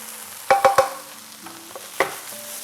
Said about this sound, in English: I'll just get like a big spatula and just kind of turn them. Move them around the pan.